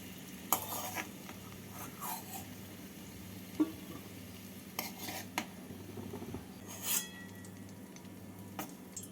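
Fried pumpkin and potato pieces are lifted out of a pan of oil, with sporadic scrapes and metallic clinks of a utensil against the pan over a faint background, and no talking.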